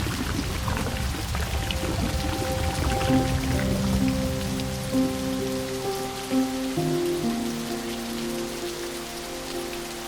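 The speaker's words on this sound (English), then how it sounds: "the sound of this water and the rain" Steady rain pattering down with a continuous wash of rushing water beneath it at a countryside water mill, close and full, with no voices.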